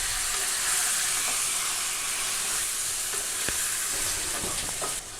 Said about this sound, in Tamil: இப்போ சிக்கன் வந்துட்டு எண்ணெயில் ஒரு 2 to 3 மினிட்ஸ் நல்லா ஃப்ரை பண்ணிக்கணும்